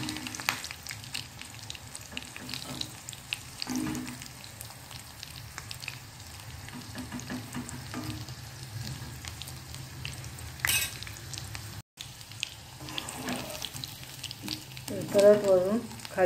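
Stuffed green chillies with a gram-flour filling fry in oil over a low flame, a steady soft sizzle running throughout, broken by occasional light scrapes and clinks as they are turned every couple of seconds.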